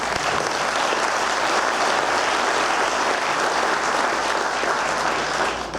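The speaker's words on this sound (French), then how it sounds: "je crois qu'on peut l'applaudir." Loud, sustained audience applause fills a hall at an economic development conference, a dense even wash of many hands clapping for several seconds without a break.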